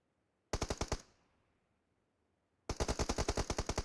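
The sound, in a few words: gunfire in a video game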